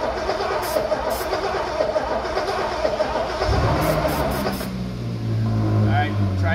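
A classic Porsche engine cranking without catching, a rhythmic starter churn that begins partway through and runs loud and close, with someone talking over the start.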